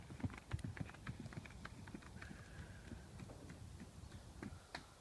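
A horse trotting in a riding arena, its hooves clip-clopping in a quick, steady rhythm that sounds close and moderately loud, with faint background noise throughout.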